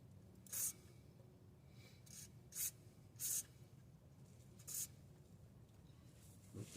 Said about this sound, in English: we got some WD-40 we're gonna spray on there